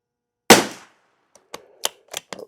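A single sharp, loud rifle shot cracks out and decays quickly, firing sorted CCI standard velocity ammunition lubed with white lithium grease, followed by a few faint clicks and small handling noises.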